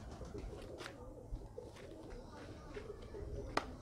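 Low murmuring coos from a pigeon run under faint background noise and scattered small knocks, with some quiet talk in the space.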